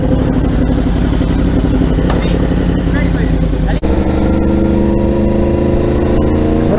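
A Yamaha R1 sportbike engine runs loud and close on a night ride, holding a steady rumble with rising rev tones, one sharp break midway, then climbing pitch steps.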